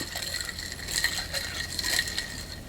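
A mango juice and Ciroc Summer Citrus vodka cocktail being mixed. Bright, rattling clinks and crunchy swirls of ice come close up in two or three quick bursts, with no voices.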